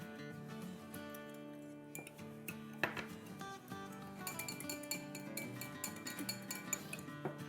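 Melted butter and hot sauce being stirred together in a bowl for chicken wings, with a utensil clinking lightly and repeatedly against the dish. The clinks are partly masked by steady background music.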